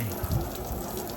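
A garden hose sprays water over outside windows, a soft, steady hiss and splash heard briefly and at low volume.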